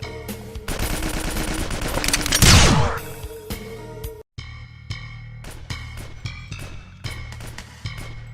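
Commando enemies in a Doom mod open up with fully automatic fire, a loud dense burst of rapid gunshots for about three seconds, followed by scattered individual shots and echoing game noise, no talk.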